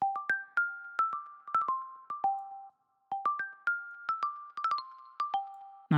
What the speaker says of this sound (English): and another xylophone type sound.